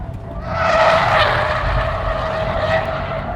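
Subaru Impreza WRX STI on a race track, tires squealing and skidding loudly through a sustained slide with engine noise underneath, close and continuous.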